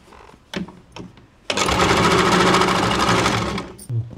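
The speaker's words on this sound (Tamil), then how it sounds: "இது இப்படியே வச்சு இந்த பிசர் சைடுக்கு ஒரு தையல் போட்டுக்கணும்." A few soft taps, then a sewing machine stitches a blouse neck piece in a steady rapid burst of about two seconds before stopping, close and clear.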